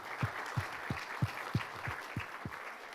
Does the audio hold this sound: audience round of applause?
yes